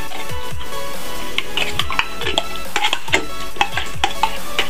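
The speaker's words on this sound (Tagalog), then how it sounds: "Pagsama-samahin lang ang mga ito mga guys at atin pong haluin ng haluin hanggang sa lumapot" A mixture of evaporated and condensed milk is stirred in a pan, with repeated scraping sweeps and sharp clinks of the utensil against the metal. The strokes come at an uneven rhythm over a soft hiss.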